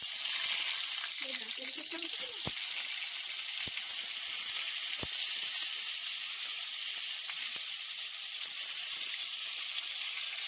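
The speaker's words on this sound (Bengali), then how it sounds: "আর এখানে এখন বেগুন ভাজাটা করে নেবো।" Brinjal slices frying in hot oil in a pan, a steady broadband sizzle and hiss throughout with a few sharp pops and crackles, fairly quiet and close, no talking.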